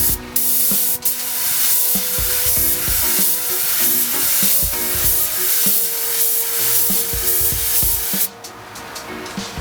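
A spray gun lays a candy paint coat across a panel in a steady, loud, continuous hiss that runs nearly the whole time, with a brief break near the start and a drop in level toward the end.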